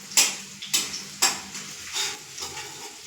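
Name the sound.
potatoes frying in pan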